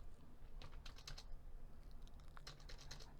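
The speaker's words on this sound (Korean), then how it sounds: "그러면 계산기 눌러서" Calculator keys are pressed in a quick, quiet run of light plastic clicks, a short burst, a pause, then another flurry.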